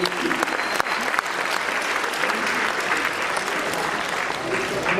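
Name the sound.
audience applause for performers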